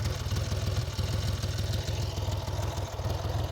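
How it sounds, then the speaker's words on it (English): A 1975 Triumph Trident three-cylinder motorcycle idling just after a cold start, its steady low, rapid, even exhaust pulse thrumming loudly and close throughout with a light mechanical clatter. "Well, actually, the engine sounds really nice."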